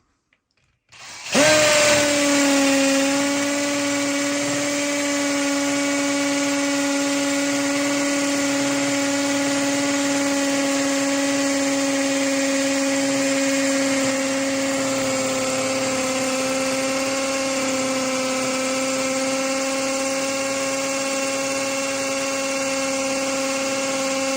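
A hammer drill in hammer mode drills into a wall, whirring steadily at high speed for over twenty seconds, loud and close, with a constant pitched whine and no pauses.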